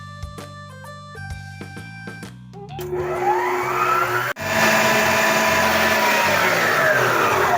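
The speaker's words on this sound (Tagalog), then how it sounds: "Gamit ang wire whisk attachment, iwi-whip natin to high speed for 3 minutes." Liquid all-purpose or heavy cream whipped at high speed with a stand mixer's wire whisk attachment gives off a loud, steady motor whine and churning rush that starts a few seconds in, after some tonal background music.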